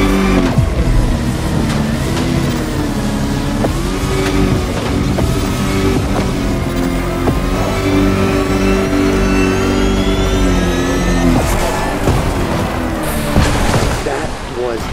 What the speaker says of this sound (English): Just look at those 250 kilowatt engines at work